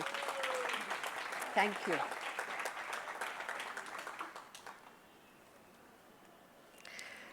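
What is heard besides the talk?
audience applause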